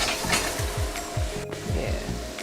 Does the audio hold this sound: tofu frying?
yes